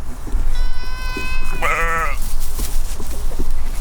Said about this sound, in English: Goats are out here too, along with hundreds of sheep.